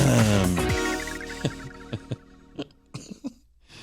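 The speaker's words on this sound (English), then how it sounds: "Just clear your throat right into the microphone" A throat clearing on a radio show with several short, sharp coughs and rasps, close to the microphone, separated by brief pauses.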